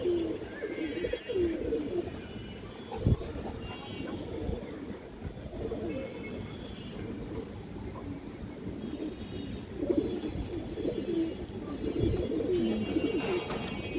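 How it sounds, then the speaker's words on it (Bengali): A breeding pair of pigeons, male and female, cooing in low repeated bursts over a busy background of faint rustling and distant noise. "দর্শক, যে পেয়ারটা দেখেন এটা মাদি কবুতর, এটা নর কবুতর।"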